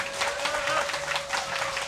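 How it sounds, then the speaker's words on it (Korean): Audience applause welcoming a speaker at a podcast recording, a steady wash of clapping with a few voices over it and a sustained tone running underneath. "박수로 환영해 주세요."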